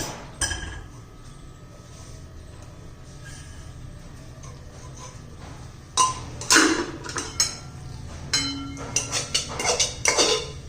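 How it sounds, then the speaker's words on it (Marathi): Metal utensils scrape and clink against pots as cooked jaggery broken-wheat porridge is moved from a pressure cooker into a kadai, quiet at first, then several sharper clatters in quick succession. "मी ह्या कढईमध्ये काढून घेते"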